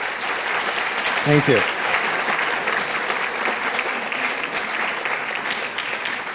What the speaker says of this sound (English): Can I hear a little round of applause for our sponsors, please?